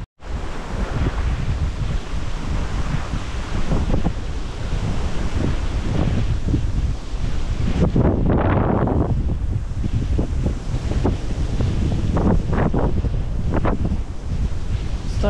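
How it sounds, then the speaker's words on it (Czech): Strong wind at a lakeside during autumn perch fishing, gusting loudly into the microphone with continuous rumbling buffeting and surf-like surges that swell and fade, close and unbroken. "Strašný vítr tady je."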